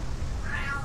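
A pet cat gives a single short, rising meow, heard close over a steady background hum in a quiet room.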